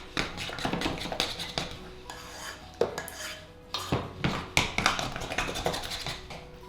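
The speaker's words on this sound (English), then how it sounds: "beat the mascarpone with icing sugar" A whisk clatters and scrapes in a bowl, beating mascarpone with icing sugar for a bake-off, in close, irregular bursts of metallic clinks and rattles with short pauses.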